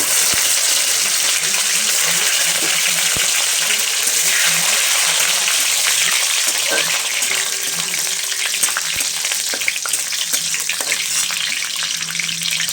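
Whole spices, soaked cashews and raisins sizzling and frying in hot oil in a pan as they are stirred, a loud, steady hiss with scraping stirs throughout, close up and without talking.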